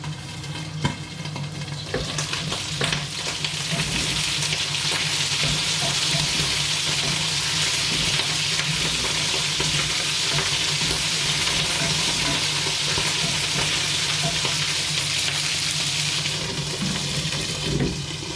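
Padron peppers fry in a hot pan with oil, a dense, steady sizzle and crackle holding loud throughout, with occasional stirring scrapes and faint low hum beneath.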